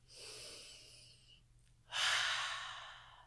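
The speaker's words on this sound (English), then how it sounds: "just take a moment and take a breath and just go" A deep breath taken alone, a long audible inhale followed by a louder, fuller exhale, close and unaccompanied by speech.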